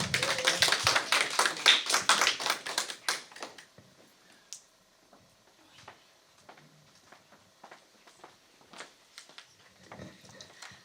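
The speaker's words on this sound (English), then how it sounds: "So, big clap for Sangeeta" Audience clapping at a Women's Day 2020 event, a dense burst of hands for about three seconds that quickly thins out into scattered, faint claps and small taps.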